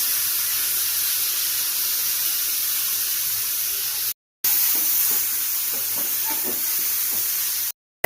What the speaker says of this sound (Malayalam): നന്നായിട്ട് ഒന്ന് വഴറ്റി കൊടുക്കുക